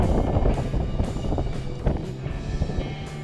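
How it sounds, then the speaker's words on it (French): Wind buffeting the microphone outdoors while fishing for brown trout with a lure in Iceland under a north wind, a steady loud rumbling roar with gusty swells throughout, no voices. "Il y a du vent."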